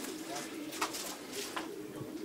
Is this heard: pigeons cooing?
yes